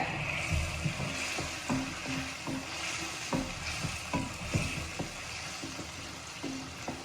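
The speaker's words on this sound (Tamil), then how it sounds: "கொஞ்சம் கொதி வந்த பிறகு நல்லா வச்சுக்கோங்க" Vermicelli upma with coriander simmering and being stirred in a pan, a soft continuous sizzle and bubble with regular light scrapes and taps of a spoon, close and fairly quiet, no talking.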